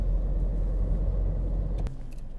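TRD 14R60-equipped car driving past with a steady, loud engine and road rumble that drops abruptly near the end, leaving a quieter background hum.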